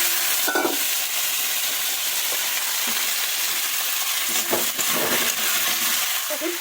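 Chickpeas and pumpkin fry in a pan with a steady, close hiss and sizzle, broken by a few clinks and scrapes of stirring.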